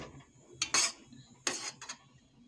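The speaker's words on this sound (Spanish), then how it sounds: "Vamos a pasarlos al vaso de la licuadora para licuarlos." Two bursts of clattering and thudding as tomatoes and chilies are dropped into a blender jar, with quiet handling noise between.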